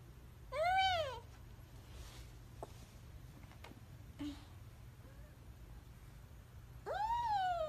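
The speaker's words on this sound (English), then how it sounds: "There's the kitty." A cat meows twice, a drawn-out rising-and-falling cry near the start and another at the end, with faint background noise and a few soft sounds between.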